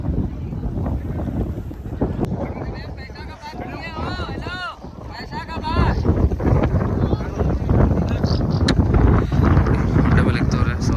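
Strong gusts of wind rush and buffet the microphone beside the broad river at Varanasi, a continuous rough roar with faint whistling partway through, alongside people talking.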